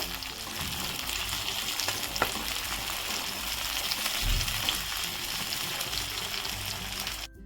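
Tomatoes and spice masala frying on high heat for matar paneer, with a steady loud sizzle and occasional stirring scrapes throughout, no voices.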